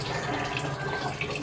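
Tap water runs steadily into a cooking pot as leftover roast chicken is turned into paksiw, a continuous close splashing stream with no voices.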